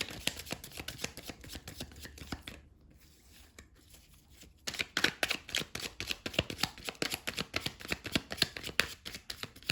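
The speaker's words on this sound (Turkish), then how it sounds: "Şöyle desteği karıştırıyorum." A deck of cards being shuffled in a tarot-style reading, with rapid riffling clicks throughout, a brief quiet pause in the middle, then a louder, steady burst of snapping card flutters close up.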